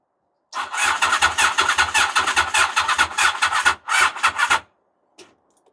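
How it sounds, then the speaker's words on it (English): A Honda motorcycle's starter cranks on a flat battery, a sluggish, rhythmic grinding churn lasting about four seconds, with a brief break before a final short burst, then silence and a faint click. "if we put the key in the ignition and try to start it?"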